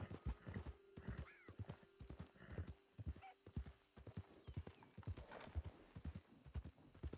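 Horse hooves clip-clop in a steady walking rhythm in the Red Dead Redemption 2 video game, close and clear, with a horse whinnying briefly partway through.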